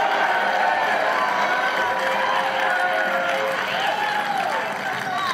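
Audience applause during a political speech: a sustained wash of clapping and crowd noise, steady and fairly loud throughout, tapering slightly at the end.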